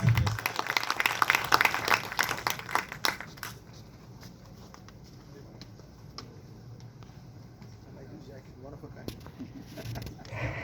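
Audience applause at a 'Guide' 100th birth anniversary event at the National Museum of Indian Cinema, a loud burst of clapping for about three seconds that quickly fades into a quiet, murmuring hall.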